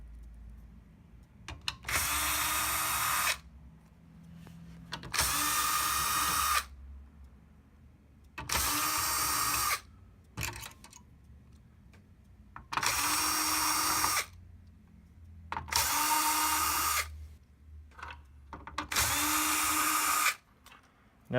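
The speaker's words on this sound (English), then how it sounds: "there are 6 Torx T10 screws on the power supply that need to get removed" Power screwdriver backing out Torx T10 screws from a TiVo Series3 HD power supply: six separate loud whirring bursts of a second or two each, evenly spaced with quiet gaps, no talking.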